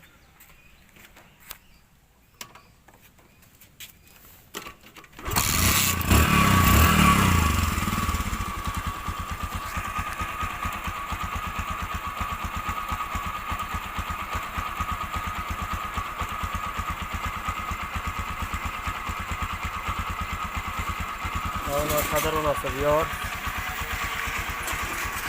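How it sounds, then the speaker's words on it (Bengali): A Bajaj Discover 100cc motorcycle starts after a few seconds of quiet clicks, revs briefly, then settles into a steady, close idle that runs to the end, with someone speaking briefly near the start. "তো বাইকের সাউন্ড দেখাবো"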